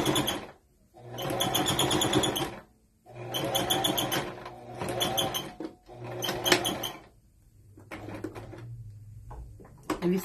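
A loud, repaired sewing machine used for batting and quilt piecing runs in several short, rattling bursts separated by brief pauses, close and clattery, with quieter mechanical clicks toward the end.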